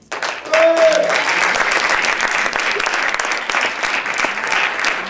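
An audience applauds for Madame Berthe at a slam poetry event at the Odéon, a dense steady clapping that starts after a brief tone and holds loud for about five seconds, with voices mixed into the crowd.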